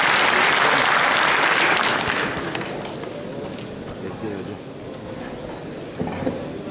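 Audience at a Turkish professional association meeting breaking into loud, dense applause that fades after about two seconds into softer scattered clapping and room murmur, with a brief flare near the end.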